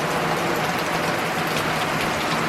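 Steady rain falls as a dense, even hiss with no pauses, close and fairly loud, and no voices over it.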